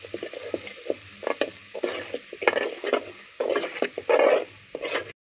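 A spice mixture fries in oil for a village-style crab curry, sizzling steadily while a spoon stirs and scrapes through it in short bursts, close and moderately loud, with no talking.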